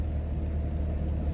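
A Yamaha Banshee ATV fitted with an HE300VG turbo at 1:1 ratio idles with a steady low rumble and a faint high whine, even and unchanging, no voices.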